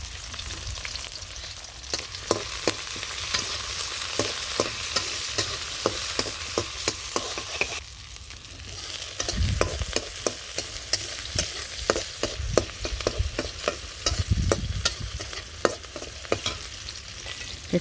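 Chopped onion and green chilies fry in a pan in a Bangladeshi village kitchen, a continuous close sizzle broken by frequent scraping stirs and clinks of the spatula, and nobody speaks.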